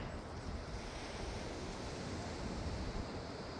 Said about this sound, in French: Les vagues sont immenses.